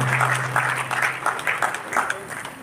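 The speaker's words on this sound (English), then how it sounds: "a big round of applause to all of us here in the auditorium" Auditorium audience at a Gujarati Samaj diamond jubilee celebration in Goa clapping steadily, dense applause with a low steady hum beneath and a hint of voices.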